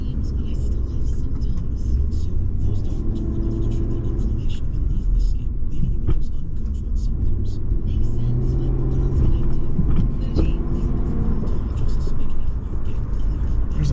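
A Jaguar XJR driven hard, its engine a deep continuous rumble with shifting revs and road noise, while people talk throughout over it.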